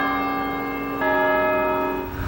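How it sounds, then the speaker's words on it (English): A cathedral bell rings at noon in a city, sustained resonant tolls with a fresh strike about halfway, ringing out clearly with no talk over it. "Now you can hear the bell. Goes off every 15 minutes,"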